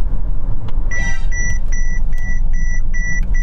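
Rapid series of sharp, evenly spaced warning beeps from a Mercedes EQS SUV collision alert, loud over the hum of the moving electric car, signalling imminent automatic braking as it closes on the vehicle ahead.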